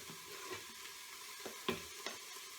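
Garlic sizzling in oil inside an Instant Pot, a soft steady frying hiss broken by a few light clicks of a spoon stirring, faint and close, with no talk.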